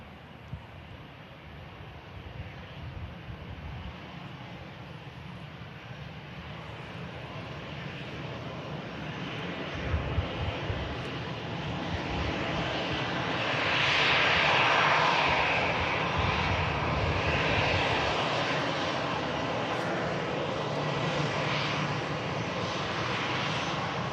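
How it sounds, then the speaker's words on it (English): An EasyJet airliner arriving at an airport, its jet engines giving a steady broad roar that swells toward the middle, with a faint whine of brake fans heard outdoors at a distance, no talk. "Just about hear the brake fans there on the EasyJet aircraft."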